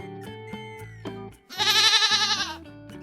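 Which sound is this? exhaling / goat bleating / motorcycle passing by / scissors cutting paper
goat bleating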